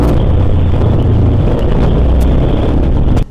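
A Yamaha SCR950 scrambler motorcycle's engine runs steadily while riding, a loud continuous low rumble mixed with heavy wind buffeting, cutting off abruptly at the very end.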